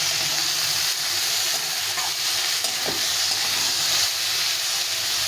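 A paste of cumin, ginger and green chili fries in a pan for a Bengali fish curry with young drumstick stems, a dense, steady hiss and crackle with a faint utensil scrape.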